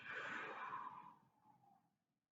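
A person seated for exercise exhales slowly through pursed lips, a soft, breathy rush that starts strong and fades out over about two seconds, close to the mic with no talking.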